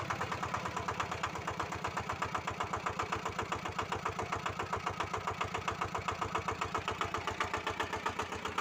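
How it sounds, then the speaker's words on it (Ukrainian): A walk-behind tractor's small engine, just restarted after a starter repair, runs steadily with a fast, even chugging pulse throughout, close and fairly loud with no talking. "Проба номер 2 Мотоблок завівся"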